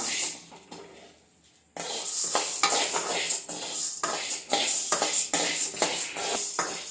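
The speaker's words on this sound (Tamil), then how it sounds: "உளுத்தம்பருப்பு போட்டுக்கலாம். நல்லா செவரட்டும். செவக்க வறுத்து எடுத்துக்குவோம்." Urad dal roasting and being stirred in a pan for idli podi, giving a steady close scraping and rattling with soft sizzle and periodic spoon strokes, starting after a brief quiet moment.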